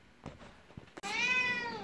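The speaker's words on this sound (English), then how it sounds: "It seems my cat doesn't want me to finish this video" A house cat lets out a single drawn-out meow nearby, preceded by a few soft scuffs and taps, in a quiet indoor room.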